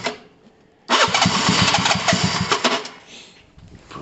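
A Gilera DNA 125 motorcycle with a changed carburettor and intake and fuel problems cranks and fires up, then runs with a loud, uneven, throbbing idle close by that fades and sags near the end.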